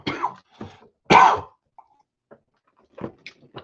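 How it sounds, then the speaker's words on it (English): One person coughs and clears their throat in short, close bursts, with one louder rasping cough in the middle and faint small sounds in the quiet gaps. "sorry, just putting this in and I have a cough."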